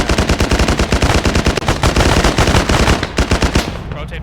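Automatic gunfire in a video game rattles out in loud, rapid machine-gun bursts packed close together, pausing briefly before a final volley that trails off.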